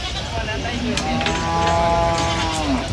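Cattle, including large bulls, moo amid a busy outdoor din at a livestock traders' holding ground, with a few drawn-out lowing calls rising over steady background noise and distant voices.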